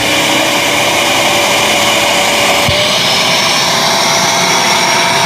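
A wet-dry vacuum cleaner runs its self-cleaning suction cycle: a loud, steady roar with a high whine running throughout, holding constant with a slight shift midway and no voices.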